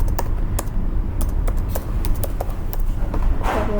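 Computer keyboard being typed on while entering formulas, heard as quick, irregular clicking keystrokes close up over a constant background hiss.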